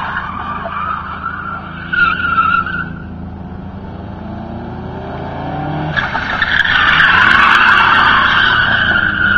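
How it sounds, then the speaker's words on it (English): A Nissan Altima drifts with tires skidding and squealing, loud screeching bursts over engine roar, briefly near the start and again stronger and sustained in the second half. "That's right, drifting Nissan."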